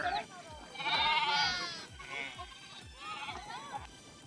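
A flock of sheep with lambs bleats in a village pen at dusk, several overlapping calls rising loud and close, with quieter bleats between and faint human voices.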